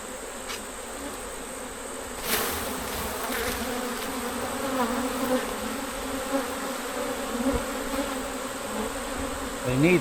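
Honeybees swarm around an open hive, a dense continuous buzz close by that swells and dips in loudness as they fly about, with a few brief knocks.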